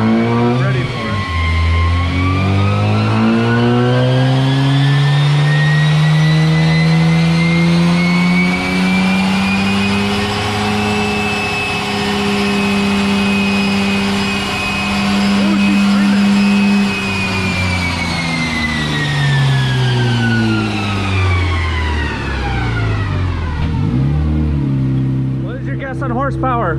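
A Nissan G35 with a swapped twin-turbo VR30DDTT V6 revs hard on a dyno, a loud sustained roar rising through the gears, holding high, then dropping back to idle, with faint voices in the background.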